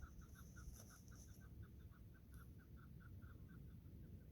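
Small birds call outdoors in a steady, evenly spaced series of short chirps, faint and somewhat distant over a constant low rumble of background noise, with no talking.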